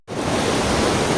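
Dangerous rushing water roars over Patora dam, a loud dense broadband rush that starts abruptly and then holds steady, close to the water with no voices.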